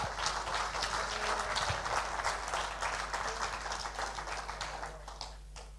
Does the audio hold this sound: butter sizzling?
no